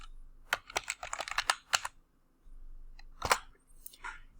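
Keys tapped on a computer keyboard while entering search terms, a quick burst of close, crisp clicks, then a pause and a few more strokes.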